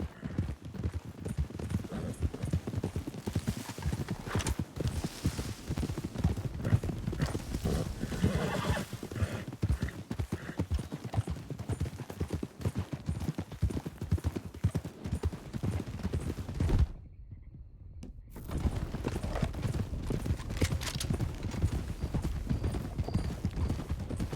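Horses walk with a steady clip-clop of hooves and let out neighs, a continuous close rhythmic clatter lasting throughout, with a brief dropout near the end.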